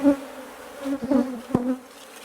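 Honey bees buzz steadily around an opened hive being checked for acceptance of a newly introduced Saskatraz queen, with a medium honey super nearby; several louder passes come close, with no talk.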